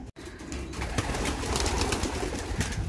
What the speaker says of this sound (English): we're just gonna go and let these cock birds out